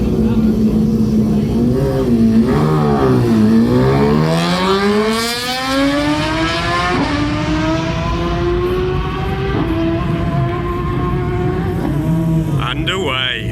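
BMW S1000RR superbike at the Isle of Man TT start line, engine revving loud and close, then pulling away with rising, climbing gear-change sweeps that fade slightly into the distance.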